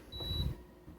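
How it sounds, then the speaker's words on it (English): A Danby DDW631SDB countertop dishwasher gives a single high electronic beep, brief and fairly faint against a quiet room. "that beeping sound."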